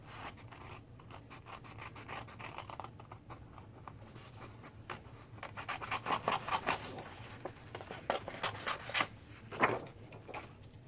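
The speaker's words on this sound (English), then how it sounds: "then we're going to cut out this little truck" Scissors snip and rustle through paper while cutting out a small printed truck shape for a lift-the-flap greeting card, a run of close, crisp cuts growing busier toward the end over a soft background hum.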